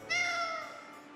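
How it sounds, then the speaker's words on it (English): A cat meows once in the video game Tales of Vesperia, a single clear, drawn-out call that fades gradually, close and alone without talk. "What's all this meowing mean anyway?"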